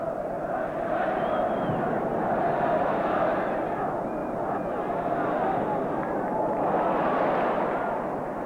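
Dense, steady roar of a large football crowd at an Arsenal v Manchester United match in the stadium, loud and continuous throughout with swelling surges, a restless rumbling din from the stands.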